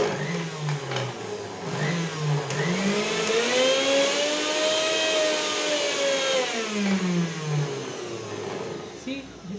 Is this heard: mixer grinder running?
yes